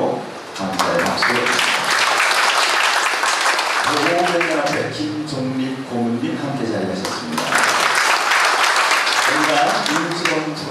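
Guests at a joint wedding ceremony applaud, a dense patter of clapping that fades under a man's amplified announcement and then swells again loudly near the end.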